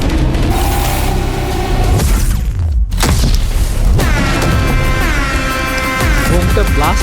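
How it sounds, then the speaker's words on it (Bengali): A bomb blast in the teaser for the film Toxic lands as a deep, loud boom inside a dense, busy soundtrack, with a brief drop-out before the heavy impact and voices mixed in. "বোমটা ব্লাস্ট হলো কি?"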